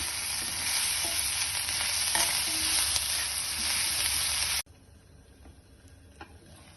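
Drumstick curry cooking over lowered flame, loud dense sizzling with stirring that drops abruptly to a much quieter simmer with light ticks of the spoon.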